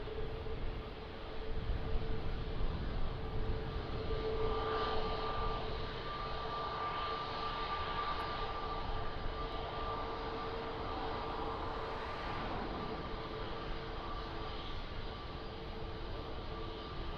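An aircraft landing on runway 02 at Lisbon Airport in windy conditions, a steady broad engine roar with a faint whine, heard from a distance and holding constant without talk.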